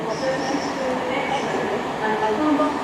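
A passenger train rumbles past at Reading station on the Great Western Main Line, a continuous broad roar with faint wheel squeal and rail hum, steady and fairly close throughout.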